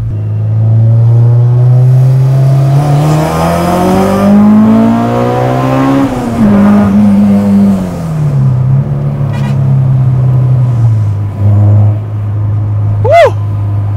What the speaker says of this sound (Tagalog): Parang masyadong malakas yung makina, no?